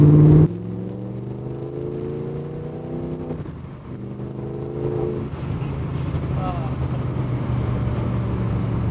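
A Spyker C8 Spyder's Audi 4.2-litre V8 engine revs up through rising harmonic sweeps, then settles into a steady, loud rumble with a brief shift in pitch midway.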